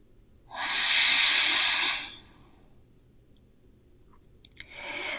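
A long, steady breath pushed out during a yoga session, with the hip pose being held, sounding close and airy for about a second and a half, followed by quiet and the start of another soft breath.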